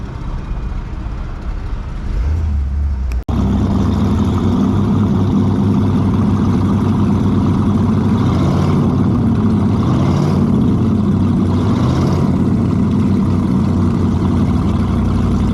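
A tiny engine hauling big boats runs loud and steady, a continuous mid-pitched drone with a sudden knock partway through, close by and with no voices.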